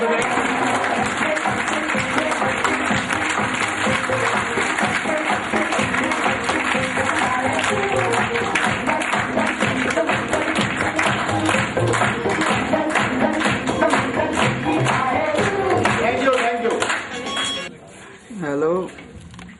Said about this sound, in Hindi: सबसे पहले मैं चाहूंगा कि आप लोग अपने लिए बहुत जोरदार और एक लंबी एक ताली आप लोग जोर से बजाएं